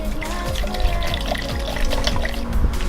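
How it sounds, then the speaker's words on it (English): Vinegar poured from a bottle into a jug, a close, steady liquid gurgle and trickle with rising glugs throughout, no talking. "Pour vinegar in."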